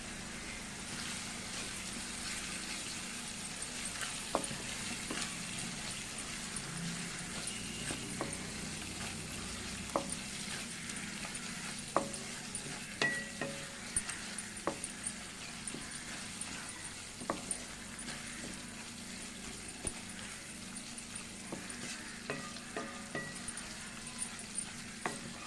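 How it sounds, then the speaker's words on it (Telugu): Junnu fries in a pan for a curry, giving a quiet, continuous sizzle with scattered light clicks and stirring taps over about twenty-five seconds, close and unaccompanied by speech. "ఈ విధంగా ఫ్రై అవ్వాలి."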